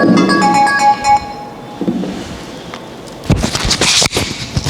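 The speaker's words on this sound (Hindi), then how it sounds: "एक मिनट होल्ड करिएगा, फोन आ रहा है।" Phone ringing with a melodic ringtone, a bright repeating tune for about a second, followed by rustling and handling noises, then louder bursts of clatter.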